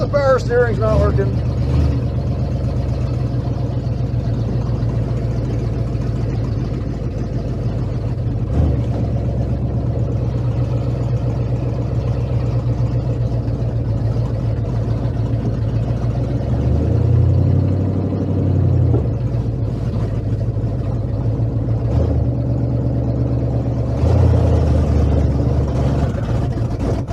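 An old truck engine runs with an open exhaust, a loud, rough idle that rumbles continuously, rising briefly as it is revved and moves a little, with people talking over it.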